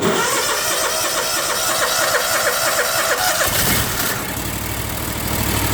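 A small engine with a freshly installed carburetor cranks, catches and fires up, its mid-pitched running note steady and loud up close once it starts.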